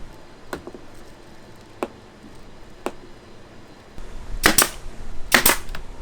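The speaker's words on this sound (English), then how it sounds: "to hold it in place, I'm going to nail gun it from behind" A pneumatic nail gun fires into a van cabinet face from behind, three sharp snapping shots spaced about a second apart, then two louder, denser bursts over a background hiss.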